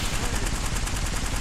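Rapid automatic gunfire in a team shooter video game, a dense continuous burst of loud close shots with no talk.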